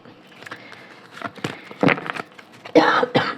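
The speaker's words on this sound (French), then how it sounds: "Je vous ai dit que j'allais tousser tout le long de la guidance." Several short, rough coughing bursts scattered through the clip, growing louder toward the end, with faint rustling between them.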